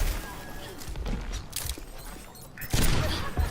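Overwatch gunshots crack out in scattered bursts amid game noise, moderately loud, with a player talking over the action.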